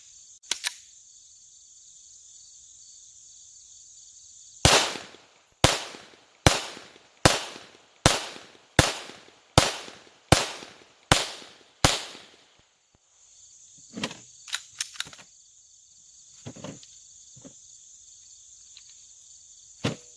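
Ten evenly spaced gunshots from a Glock 17 pistol at a shooting range crack out sharp and loud in a steady rhythm, followed by a few scattered sharp knocks over a constant high hiss, with no talking.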